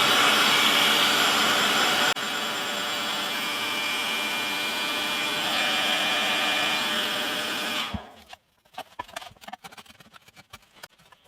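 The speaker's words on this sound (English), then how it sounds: "So, got my heat gun." A heat gun blows loudly and steadily while loosening the braces inside a vintage steel-string guitar, a constant roaring hiss that stops abruptly near the end, leaving scattered light clicks and handling noises.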